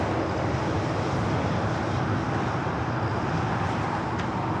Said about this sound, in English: Slowing on that 777 freighter flight heading to Tokyo Narita, flight 5153